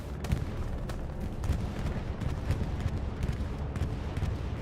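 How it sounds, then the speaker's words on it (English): Bombing-run explosions in the game Hell Let Loose thud and rumble at a distance, with repeated muffled booms and sharp cracks of gunfire scattered through a steady low battlefield roar. "Here comes the bombing run."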